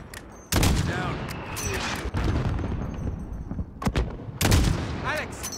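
Gunfire in Call of Duty: Modern Warfare, with sharp repeated shots and bursts that break out loud and close and then return after a lull, over dense battle noise.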